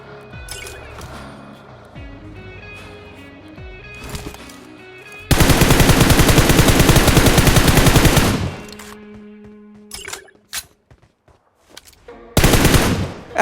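Gunfire in BGMI PUBG Mobile, with a long sustained burst of loud automatic fire, then scattered shots and a second short burst near the end, over game background sounds.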